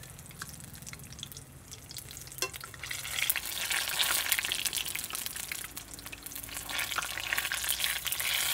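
Raw banana bajji in hot oil, a steady dense sizzle with soft bubbling and a few light clinks, close and continuous without any voices.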